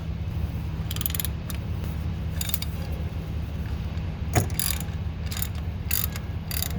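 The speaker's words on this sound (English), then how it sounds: "me turning this bolt should pull my seal out" A wrench ratchets in short, repeated bursts as a bolt is turned to pull the rear crank seal from a 6.7 Ford Powerstroke diesel, with clicking mechanical strokes close up over a steady low hum.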